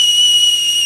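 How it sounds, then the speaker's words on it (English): A metal tea kettle holding boiling liquid nitrogen gives off a loud, steady, piercing whistle that holds one high pitch throughout, with nothing else heard. "the teapot immediately starts to whistle"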